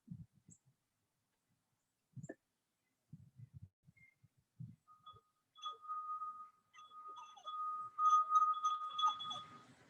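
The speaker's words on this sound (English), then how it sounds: "It's not as clear a note. because it's hand blown glass blown." A hand-blown drinking glass rings out with a sustained musical note, rising after some scattered handling knocks and swelling into a clear, slightly wavering tone near the close.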